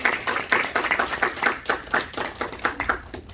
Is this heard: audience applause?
yes